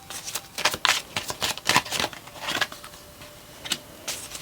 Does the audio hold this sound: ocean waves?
no